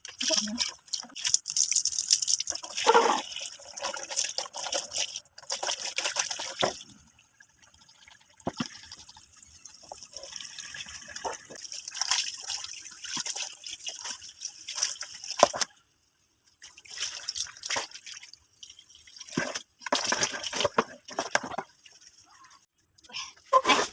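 Water splashing and running in bursts while a dog is bathed, loud and intermittent across the clip, with a voice heard between the pours.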